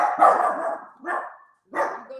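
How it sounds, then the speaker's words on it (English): A dog barks indoors during a talk on public speaking, three loud close barks with brief pauses between them, the last two shorter, and no voices over them. "Oh, there's my dog."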